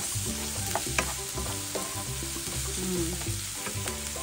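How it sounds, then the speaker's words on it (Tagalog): Onions sizzle and fry in a pan for a bagoong alamang dish, a steady close crackle with repeated stirring scrapes and utensil taps, no talking. "Yan, medyo luto na yung ating sibuyas."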